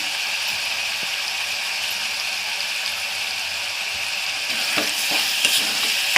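Ginger garlic paste sizzles steadily in hot oil in a mutton and chicken curry pan while being stirred, a continuous bright frying hiss with occasional scraping clicks from the spoon near the end.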